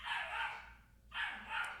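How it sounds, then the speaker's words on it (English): A neighbor's puppy barking somewhere in the background, two quiet yipping barks with a short pause between them, faint and distant with no talking over them. "I hope you guys can't hear that dog in the background, but I fear that you can"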